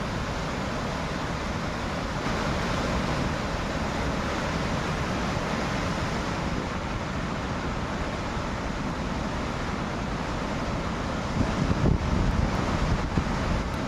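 A broad, unbroken roar of rushing water released from Nilwande Dam into the Pravara River at 7,000 cusecs fills the whole clip, loud and steady like a powerful torrent, with no voices.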